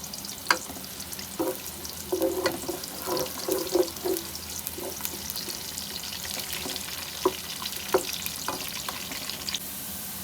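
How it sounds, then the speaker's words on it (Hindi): Onions sizzle and crackle steadily in a pan while being fried for keema, with intermittent scraping stir clicks and a faint watery hiss running throughout, close and moderately loud with no talking. "प्याज को फ्राई करेंगे।"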